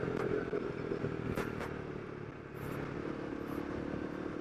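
Royal Enfield Himalayan 450 motorcycle engine dropping a gear while riding on mountain twisties, a steady loud engine drone with wind rush, easing slightly mid-way then picking up again.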